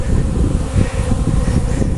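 Honeybees buzz densely around their hive in spring, a steady close low drone with no voices.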